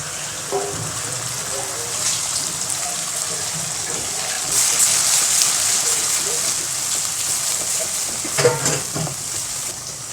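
Ground tomato, onion, ginger, garlic and fennel paste frying in oil for potato egg curry, a continuous hissing sizzle with occasional stirring scrapes, close and fairly loud.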